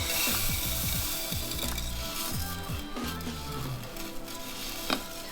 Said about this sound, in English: we're now going to go and add our risotto rice back into the pan